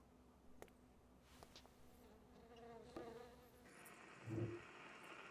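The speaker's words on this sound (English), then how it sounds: "Why does he have a jar with a bee in it?" A bee buzzing inside a jar in a video game, a faint continuous drone with occasional louder swells, heard alone.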